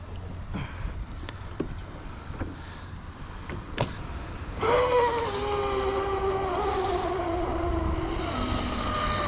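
A ProBoat Blackjack 42 RC model boat's motor whines up to a steady high-pitched buzz on the water over outdoor background noise, with a few sharp clicks before it starts running.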